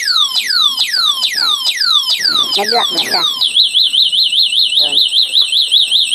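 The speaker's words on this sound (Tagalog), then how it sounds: "Sa paggulong pa lang yan ng gulong, mag-aalarm na siya." An anti-theft alarm on an EcoDrive Blitz 2000r electric scooter sounds loudly in a rapid series of falling chirps, then switches to a steady warbling siren, with someone talking over it.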